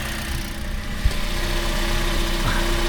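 A Toyota Vios 1.3 idles just after an oil change, its engine making a steady, close, even hum with a low rumble throughout and one brief knock near the start.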